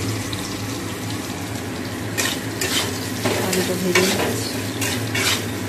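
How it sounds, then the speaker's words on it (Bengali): Potatoes fry in a pan in a home kitchen with a steady close sizzle, and several bursts of scraping and stirring break in over it, with no talking. "এই দেখো আলুটা ভেজে নিচ্ছি,"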